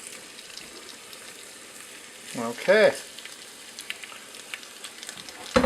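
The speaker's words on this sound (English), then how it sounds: "Let's just throw that beef in there and then we'll brown it up a little bit. You can hear that sizzle." Beef sizzles softly and steadily as it browns in a hot pressure cooker pot, a quiet crackling hiss, with a brief spoken word and a clank partway through.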